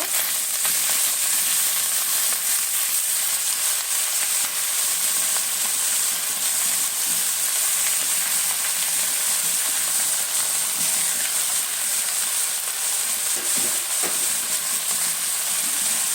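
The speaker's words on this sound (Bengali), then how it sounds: "আমার পেঁয়াজটা ভাজা ভাজা হয়ে গেছে এখন আমি লাল শাকগুলো দিয়ে দিব" Red amaranth greens sizzle in a pan over frying onion, a dense even crackle and hiss lasting throughout, with a few faint stirring knocks near the end.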